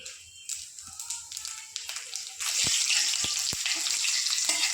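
Bay leaf, dried red chillies and whole cumin hit hot oil for a sambar tempering, starting with faint crackle that swells into a loud, steady sizzle with a few sharp pops and taps.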